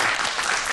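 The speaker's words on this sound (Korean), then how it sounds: "오늘 저희에게 생체시계를 안내해 주신 우리 교수님께 여러분 박수 부탁드리도록 하겠습니다" An audience claps together after a science lecture on biological clocks, a dense burst of applause filling the short moment evenly.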